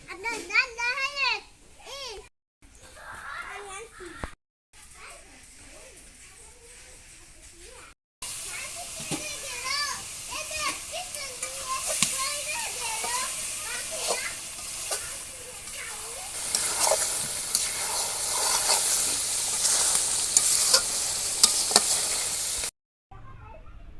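Beef curry sizzles and hisses in a pan in a village kitchen while it is stirred, the frying growing louder and brighter partway through, with children and adults chatting over it.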